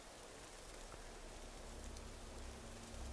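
Steady rain falls in the Morrowind game world, a dense, even hiss of downpour with no breaks, moderately loud and alone throughout.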